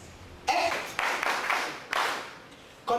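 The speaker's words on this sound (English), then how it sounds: "Don't clap for that." Audience at a two-day prison workshop clapping in several short bursts of applause, moderately close, separated by brief lulls.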